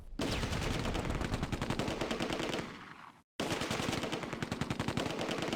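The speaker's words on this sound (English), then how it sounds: "The 6-pounder has found the range, but it needs to keep up its fire to disable the Panzer." Rapid, sustained gunfire from a 6-pounder anti-tank gun in the Close Combat war game, with Operation Market Garden battle ambience, loud and rhythmic, with a brief drop to near silence partway before the firing resumes.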